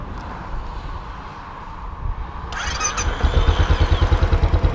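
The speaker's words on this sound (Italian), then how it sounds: "quindi appena si mette in moto, ora Paolo ce la metterà in moto" A Royal Enfield Bullet Classic 500 E4 motorcycle fires up after a soft whirr of the starter, then settles into a loud, close, rhythmic single-cylinder thump with wind buffeting the microphone.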